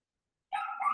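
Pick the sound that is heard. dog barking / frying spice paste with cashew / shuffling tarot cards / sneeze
dog barking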